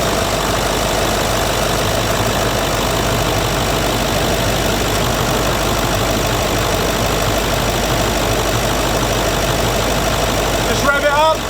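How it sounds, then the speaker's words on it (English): A Range Rover L322 with the TDV8 diesel V8 idles steadily and close by, a constant low rumble that holds evenly throughout with no change in pace. "then we'll fire it up and we'll check it."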